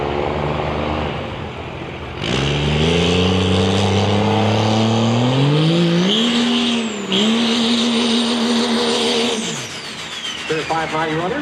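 Two 590-class drag racing trucks, a red one and a white one, roar off the line in a grudge race, engines climbing through hard revs and gear changes, loud and close, with an announcer talking over them.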